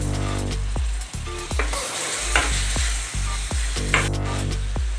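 Tomatoes tossed into hot oil with onions for a chicken gravy, a loud close crackling sizzle broken by repeated sharp scrapes and knocks of a stirring spoon against the pan.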